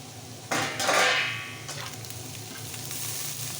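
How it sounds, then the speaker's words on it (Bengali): Potatoes and gourd skin frying in a pan, a lid lifted then a loud burst of sizzling and scraping stirs that settles into a steady close frying hiss, with no talk. "তারপরে ঢাকনাটা তুলে নেড়ে নিচ্ছি"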